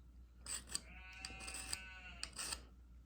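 Several hungry sheep bleat in quick succession, wavering cries overlapping close by, with a low steady rumble underneath.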